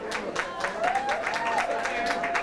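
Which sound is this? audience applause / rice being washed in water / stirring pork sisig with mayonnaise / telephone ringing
audience applause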